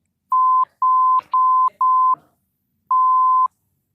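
A steady censor bleep tone sounds in short bursts over muffled talk: four quick beeps in a row, then one more after a short gap.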